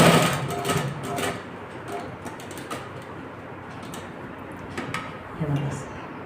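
A domestic sewing machine runs stitching fabric up to a marked line, its close mechanical whir with rhythmic ticking rising and easing, and someone talks over it in places.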